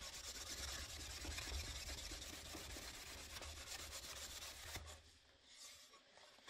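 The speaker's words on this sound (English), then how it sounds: "It's dried up quite a bit, and you can buff it out." A cloth buffs an oil and beeswax finish on wood, a close continuous rubbing and rasping that eases off near the end, quiet and without talk.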